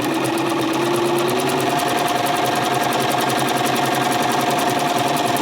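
A sewing machine stitches around a fabric flower shape, running continuously with a fast, steady mechanical whir and rapid needle rhythm, close and loud, with a faint tonal hum shifting partway through and no talking.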